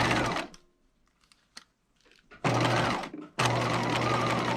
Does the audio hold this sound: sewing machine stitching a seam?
yes